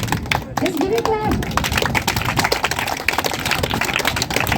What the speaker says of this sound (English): Let's give it a clap.